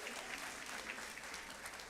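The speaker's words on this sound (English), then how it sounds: "give them a round of applause" An audience at a school district meeting applauds first-year principals, a steady wash of clapping from many hands, fairly distant and even.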